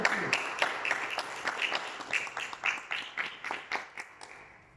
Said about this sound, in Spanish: ¿Cuánto le aplauden al Señor?